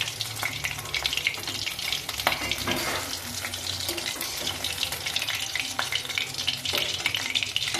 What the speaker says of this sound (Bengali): এইভাবে আমি এক এক করে সব মাছ ভেজে দেব